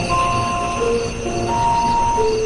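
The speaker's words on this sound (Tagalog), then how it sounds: "Tanging tunog ng mga kuliglig ang maririnig." Crickets chirp outdoors behind a house at night, a quiet, steady chorus of thin, high trills with no other sound.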